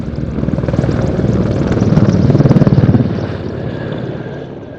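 A Danish AW101 Merlin helicopter at an airshow, its rotor thumping in a steady rhythmic chop that swells louder as it passes close, then fades with a lingering turbine whine.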